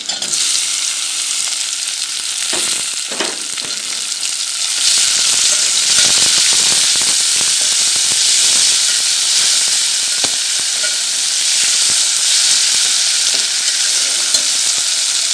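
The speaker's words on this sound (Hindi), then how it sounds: "मसाले को अच्छे तरीके से भून लूँगी।" Tomatoes, green chilies and spices frying in a pan over browned onion and garlic for a liver curry, a loud continuous sizzle close up with occasional stirring scrapes and no talking.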